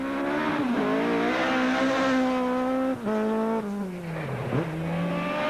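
Rally car in a 2001 Volkswagen rally event revs hard through a handbrake turn, the engine note rising and falling with gear changes and a brief drop before pulling away again, close and loud.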